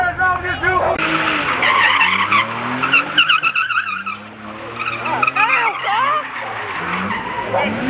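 A car slides at an Atlanta street-slider event, its tires squealing and skidding in long, wavering screeches over engine noise, with a voice talking and crowd sounds nearby.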